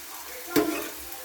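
Onions frying in a pan for a spicy yogurt tikhari, a steady low sizzle with two sharp bursts of stirring or spatula scrapes, close and alone.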